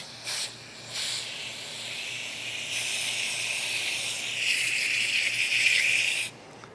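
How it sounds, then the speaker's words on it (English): Aerosol carb cleaner sprays steadily from a can onto old, thick grease inside a rotary brush center transmission, after a couple of short opening bursts. The hiss is close and loud, rising toward the end before it cuts off. "you got carb cleaner, or you can use brake cleaner"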